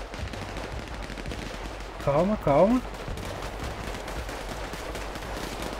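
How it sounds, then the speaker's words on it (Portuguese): Gunfire in a GTA 5 roleplay game session rings out as a short burst of shots midway through, mixed with a shouting voice over a constant game background. "O pipoco tá comendo, tio"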